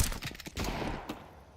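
Pistol fire crackles in a Counter-Strike match, with a quick burst of several sharp shots followed by a couple of more scattered reports, close and fairly loud.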